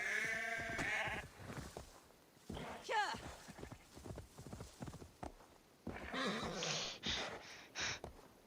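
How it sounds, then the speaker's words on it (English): In Assassin's Creed Valhalla, sheep bleat several times amid galloping hoofbeats from a horse ride, with someone talking between the calls. "sheep."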